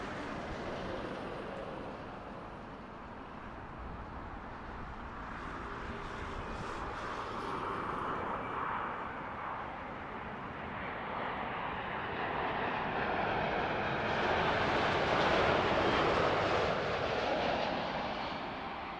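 Boeing 787-8 passing at Heathrow Airport, a broad jet engine roar that swells steadily over about nineteen seconds and peaks loudly near the end, heard from a spotting position without speech.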